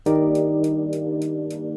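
A live-sounding closed hi-hat ticks out quick 16th notes, six crisp bright hits in under two seconds over a sustained tonal chord, clear and close with no voices.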